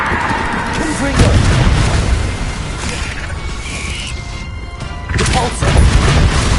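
Hogwarts Legacy casts the Confringo spell, producing heavy booming blasts and crashing impacts amid a dense game soundscape. The blasts surge at the start and again near the end, loud and close, with speech mixed in.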